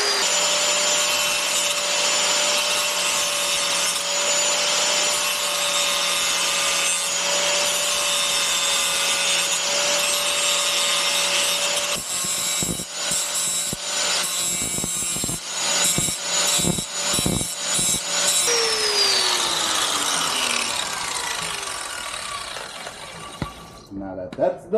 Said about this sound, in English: see if I can grind this off real quick